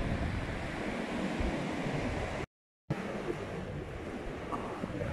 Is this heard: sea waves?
yes